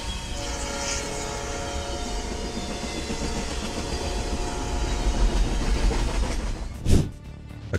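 A light rail train rumbles steadily past, close and loud, with a rising roar toward the end and a brief sharp burst near the close, no voices present.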